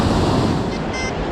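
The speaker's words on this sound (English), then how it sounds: "These are not surfer waves." Mild ocean surf washes onto a New York summer beach in a broad, continuous roar with wind buffeting the microphone, loud and close, with no talking.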